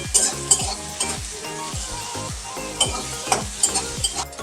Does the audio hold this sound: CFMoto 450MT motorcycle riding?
no